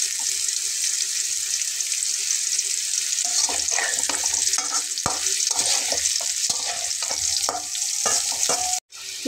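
Kakrol (spiny gourd) frying in hot oil, a steady bright sizzle throughout with scattered clinks and scraping stirs joining midway, close and alone with no voices.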